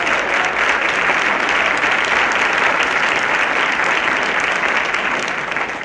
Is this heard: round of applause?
yes